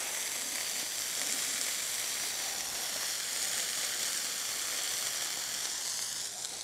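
A steady, dense sizzle of beef patties frying on a flat top griddle carries on unbroken and close, with no talking.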